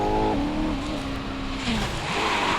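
A race car in the Racing Master video game roars loudly as its engine pitch climbs and drops through gear changes, a continuous close engine drone during an overtake with no voices.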